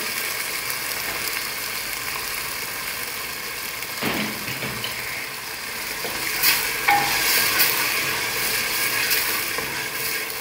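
Onions fry in a pot with chili pepper paste for kabsa, a steady sizzle broken by the scrape and clatter of a spoon stirring through the mixture, close and fairly loud.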